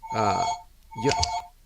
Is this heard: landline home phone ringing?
yes